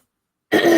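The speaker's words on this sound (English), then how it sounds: "All of a sudden, I have to clear my throat." A single sharp throat clearing bursts in loud and close after half a second of silence, a rough guttural rasp that lasts to the end.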